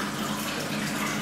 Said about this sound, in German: Wir füllen das Wasser nicht ganz ein